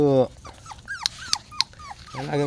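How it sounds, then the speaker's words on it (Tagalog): A pet dog makes a run of short whimpers and yelps with low growls around them, close by, and a person talks at the start and again at the end. "Alagang aso."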